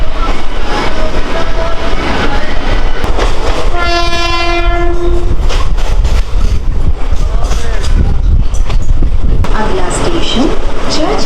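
A Mumbai local train runs toward Churchgate station, loud and close with continuous rumbling and clickety-clack on the tracks; partway through, a sustained horn blast sounds for about a second and a half, and voices talk faintly in the background.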